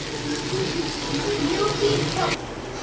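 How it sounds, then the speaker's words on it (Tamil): Water pours from a vessel into a pan of spiced potato masala in a home kitchen, a steady close splashing gush that cuts off abruptly near the end. "இது கொஞ்சம் மசாலா போட்டு தேவையான அளவு தண்ணி ஊற்றுவோம்."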